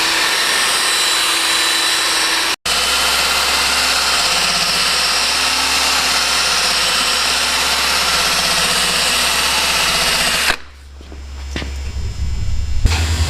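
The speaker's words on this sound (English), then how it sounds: "I'm going to work rotating around the edge of the rim until I can get all that sanded down with this 2000 grit" A 2000-grit sanding tool works curb rash along the edge of a factory wheel rim, a loud, steady motorized whir that runs unbroken for about ten seconds, cuts out briefly once, then stops and leaves a lower hum.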